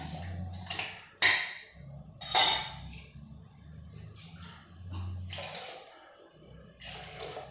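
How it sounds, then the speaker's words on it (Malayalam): Water splashes into a cooking pot in a home kitchen in several short pours, with clinks of the pot and utensils between bursts, close and fairly quiet, no talking. "കുറച്ച് വെള്ളം ഒഴിച്ചു കൊടുക്കാം."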